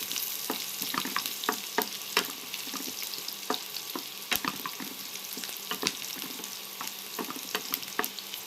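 Onion sautéing in a pan for a budget chopsuey, a steady close sizzle and crackle with scattered sharp pops and occasional stirring scrapes throughout, no voices.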